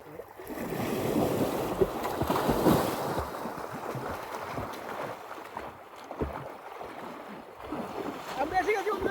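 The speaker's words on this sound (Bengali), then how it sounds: "এখন এই জায়গায় অসংখ্য স্রোত" Strong currents of the cold Sankosh river rushing and churning, a loud, broad wash of water noise with gusts of wind buffeting the microphone, while people talk over it.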